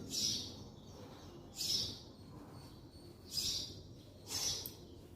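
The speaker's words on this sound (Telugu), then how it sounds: "బర్డ్స్ సంగీతం చాలా బాగుంది, బాగా అరుస్తున్నాయి" Birds calling in a garden with flowering plants, four bright, shrill bursts spaced a second or two apart over a quiet low background hum, fairly close and clear, with no talking.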